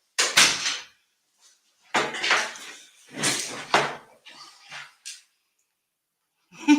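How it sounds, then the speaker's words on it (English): A door is pushed shut indoors, giving a few dull thumps and knocks spread over several seconds, close and moderately loud, with no talking. "Here, I'll close the door."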